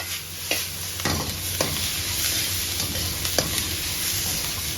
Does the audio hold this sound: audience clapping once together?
no